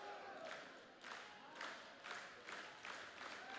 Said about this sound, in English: Here comes the South crowd